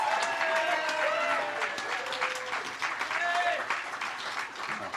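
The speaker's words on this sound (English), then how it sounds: "Give them another round of applause." Concert audience applauding after a traditional music set, steady clapping from a crowd with voices and cheers mixed in, moderately loud and gradually tapering.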